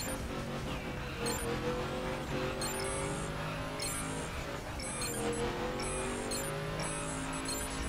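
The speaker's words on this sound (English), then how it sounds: "But it's way more easy to control this drag car." Drag car engine in the racing game The Crew, driven through a slalom, roaring steadily and loudly throughout with a continuous high-revving drone and faint tire noise.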